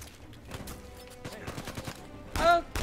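Rapid bursts of gunfire from a firefight in the video game Uncharted 4 crack out in uneven clusters, with one louder ringing impact near the end.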